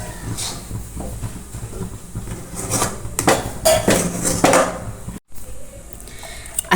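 A coconut barfi mixture is stirred in a pan, making a steady, close scraping and clattering that swells and fades, with a brief drop to silence near the end.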